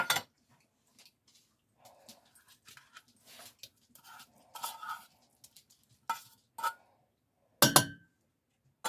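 A spoon stirs chunk light tuna into a soup mixture for a tuna casserole, giving sparse, light clinks and taps against the bowl with quiet gaps between them.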